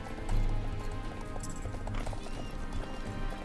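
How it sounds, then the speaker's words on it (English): Galloping horse hooves from the video game Star Stable during a race, a steady, continuous clip-clop close up with a brief whinny, heard alone without talk. "My horse still takes a while to get started,"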